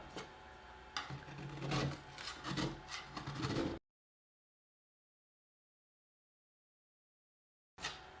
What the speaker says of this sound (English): I'm going to go along the edges here with my cake spatula